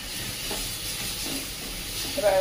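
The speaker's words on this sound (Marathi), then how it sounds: "तर त्यामध्ये टाकून घेऊया बारीक चिरलेली भरपूर सारी कोथिंबीर। व्यवस्थित परतून घ्यायचं।" Onion chutney with plenty of finely chopped coriander sautéing in a pan, giving a steady, close hiss and sizzle throughout, with a brief stir near the end.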